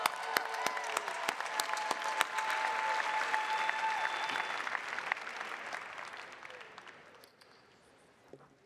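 Warm applause from the audience at a Heinz College graduation hooding ceremony, steady crisp clapping that builds, holds, then fades away over several seconds, with a few individual claps standing out.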